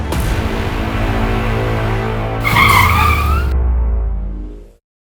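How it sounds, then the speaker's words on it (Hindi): A car on a drama set skids to a stop. A loud road rumble builds into a squealing tire screech midway, then quickly dies away into silence. "सर, गाड़ी क्यों रोक दी?"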